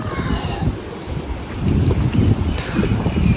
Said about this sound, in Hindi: और अब हवा बड़ी ठंडी हवा चल रही है